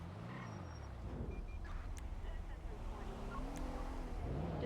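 Traffic in GTA NoPixel roleplay, with a car engine droning and shifting pitch as vehicles move past, heard fairly faintly beneath a game soundscape with occasional short electronic blips.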